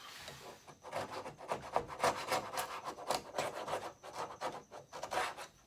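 Rough rasping strokes of trimming along the leading edge of a cured stabilizer layup on its mold, steady back-and-forth scraping close up with brief pauses, no voices.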